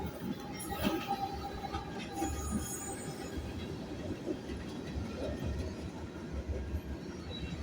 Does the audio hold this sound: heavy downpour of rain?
no